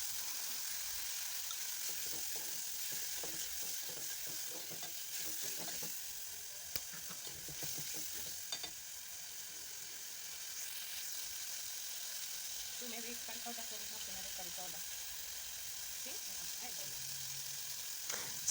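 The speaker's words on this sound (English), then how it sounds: "I'm just mixing to allow my tomatoes to cook well before adding in water" Chopped tomatoes with garlic paste fry in a pan, a steady broadband sizzle running throughout, broken by intermittent scraping and clinking as a utensil stirs the mixture.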